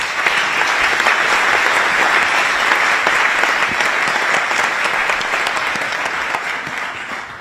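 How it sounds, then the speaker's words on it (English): Sustained audience applause for a panel at a campus cybersecurity event with the German foreign minister, a dense steady clapping wash from a large room that holds level throughout and tapers slightly at the end, no voices over it. "So let us give our panel a very warm round of applause"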